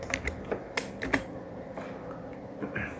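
Computer keyboard keys and mouse buttons click at a desk during Photoshop editing, irregular crisp taps spaced a fraction of a second apart, close and fairly quiet, with no voice.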